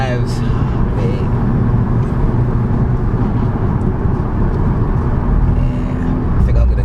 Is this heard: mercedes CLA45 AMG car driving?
yes